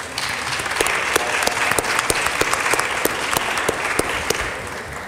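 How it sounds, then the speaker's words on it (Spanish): Sustained applause fills a Mexican legislative chamber, a dense steady wash of many hands with sharper individual claps popping out, loud and close for the full stretch. "Un aplauso para todas ustedes."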